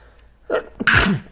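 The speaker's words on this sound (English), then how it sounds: "I have to sneeze." A single loud sneeze from an adult man, a sharp intake followed by an explosive burst, close and clear with no talking over it.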